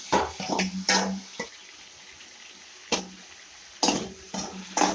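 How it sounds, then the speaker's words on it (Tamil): Tomatoes sautéing in a pan, with bursts of stirring and sizzling that come in short loud clusters separated by quieter gaps. "தக்காளி போட்டு வதக்கலாம்"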